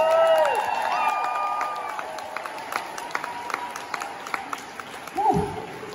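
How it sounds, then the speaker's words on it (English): An audience at a vegan camp-out event claps steadily at a distance, scattered sharp claps over a soft wash of applause, with a brief voice cutting in near the end. "you should give yourself a big round of applause"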